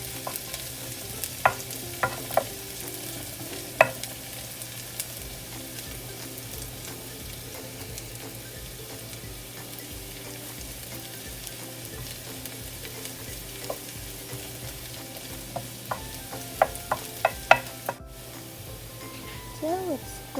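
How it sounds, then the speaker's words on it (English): Garlic fries in a pan of oil with a soft, even sizzle that runs throughout, broken by occasional sharp clicks and utensil taps, fairly quiet and close. "Let's put in our garlic and let's fry it up."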